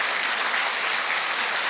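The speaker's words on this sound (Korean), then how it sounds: "옆에 분들을 위해서 뜨거운 응원의 박수 한번 보내드릴까요?" Dense, steady applause from a church worship congregation, sustained clapping throughout with no voices standing out.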